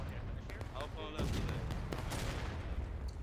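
Counter-battery artillery and rifle fire in a Civil War-era battle game, sounding as a dense, distant rumble of shots and crackling volleys under a steady din, fairly quiet overall.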